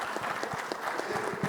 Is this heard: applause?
yes